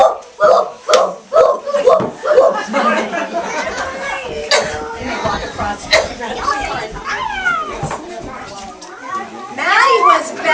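Children in a school holiday play imitating barking dogs, voices yelping in a quick run of loud bursts, then chattering and laughing over the rest of the scene.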